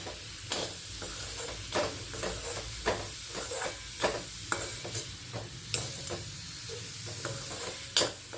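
A tomato mixture with salt sautés and sizzles in a pan for a Chettinad tomato kuzhambu, with steady frying hiss and repeated clicks and scrapes of stirring throughout, close and moderately loud, no talking.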